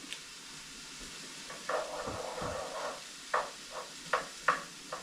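Food cooking down in a pan with butter, olive oil and bacon grease, a soft steady sizzle broken by occasional stirring scrapes and light clinks of a utensil, fairly quiet with no talking.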